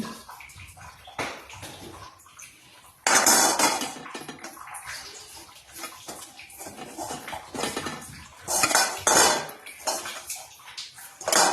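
Poha being tipped and scraped into a large metal bowl in a home kitchen, with loud bursts of rustling, clattering flakes and metal scraping that come and go, no talking.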